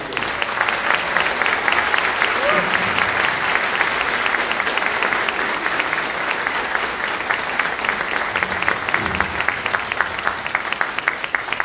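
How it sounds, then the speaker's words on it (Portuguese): Sustained audience clapping at a public mock-trial gathering, loud and continuous with a steady rhythmic beat running throughout, a crowd of many hands close by. "Vamos dar palmas a Deus."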